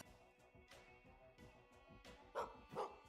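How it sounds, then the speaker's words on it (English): Dog barks from the steampunk video game Gestalt: Steam and Cinder, a few short yips and barks rising over a busy game soundtrack, the last two sharper and louder near the end. "Yes, I can free the dog."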